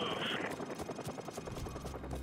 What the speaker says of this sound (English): I ran out underneath the helicopter and it didn't even see me.